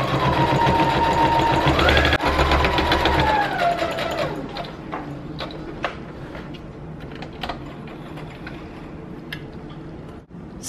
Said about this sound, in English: So now that we have it sewed all the way across, you can see it's pretty flat.